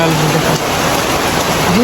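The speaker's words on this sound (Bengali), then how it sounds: "এখন দেখো যে বৃষ্টি শুরু গেছে," Steady rain pours down in a dense, even hiss, with a short low tonal sound near the start and again at the end.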